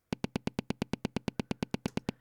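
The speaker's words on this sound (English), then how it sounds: "really, really short, tight little click sound." A rapid, even run of very short, tight clicks from a shortened kick drum sample, about sixteen in quick succession as a stutter effect, crisp and close with nothing else around them.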